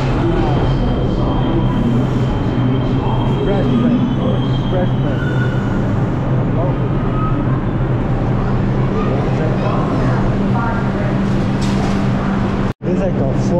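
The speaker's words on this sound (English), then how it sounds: "This is like the fourth express train that passed by." A subway express train rushes past nearby underground with a loud, steady rumble and roar, rattling and screeching throughout and people talking under the noise.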